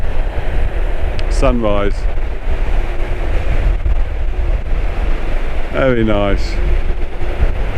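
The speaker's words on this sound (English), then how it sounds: "the wind's picking up again" Steady wind and surf roar along the Paphos seafront in November after a storm, a constant broad rush close to the microphone, with brief spoken remarks twice over it.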